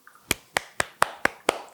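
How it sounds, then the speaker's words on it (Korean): Six sharp, crisp claps in an even, quick rhythm, each a short dry crack with a brief decay, close and clear with no voices. "또 박수 소리가 나옵니다"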